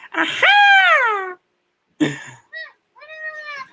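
A human voice imitates Cuddles from the cartoon Happy Tree Friends in cat-like gibberish. One long, whiny meow-like wail is followed by a short pause and then two shorter mewing cries, loud and close.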